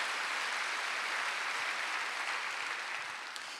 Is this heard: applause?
yes